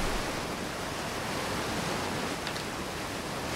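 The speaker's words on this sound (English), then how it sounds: "Yeah, waterfall." Steady broadband rushing of a waterfall in the video game Outer Wilds, a dense continuous roar with no distinct events, no speech present.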